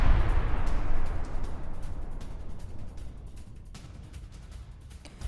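A fuel tank explosion in Iraq: a heavy, broad rumbling roar that is loudest at the start and slowly fades into a long, noisy decay with scattered crackles, and no voices.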